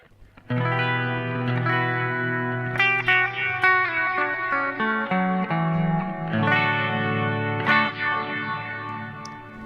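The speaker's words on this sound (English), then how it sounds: "So that's kind of the quick classic Tera Echo sound as I was using in the intro." A Boss Tera Echo TE-2 guitar effects pedal shapes sustained, layered electric guitar chords into a shimmering, echoing wash with chorus-like swirl and trailing repeats, playing loudly and continuously without talk.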